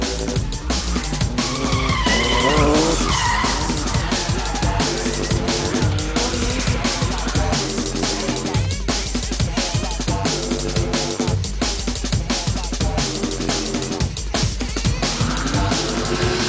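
Drift cars on a dry track during a D1NZ drifting event in 2005, with continuous loud tire squeal and skidding mixed with engine roar, dense and unbroken throughout.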